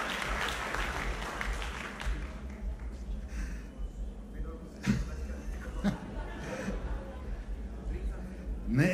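An audience applauds at a live evening talk event, a broad wash of clapping that fades after a couple of seconds, with chuckles, laughter and voices over and after it.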